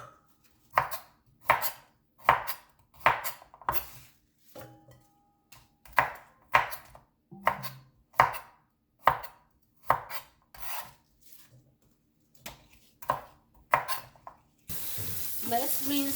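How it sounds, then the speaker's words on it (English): Knife chopping Chinese broccoli on a cutting board for pad see ew, a steady series of sharp, close cuts in quick rhythmic bursts with a few short pauses, ending in a rush of running water. "Let's cut the Chinese broccoli here."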